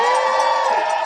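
A watch-party crowd whoops and cheers for a guest being introduced, a dense steady wash of voices lasting about a second with no clear breaks.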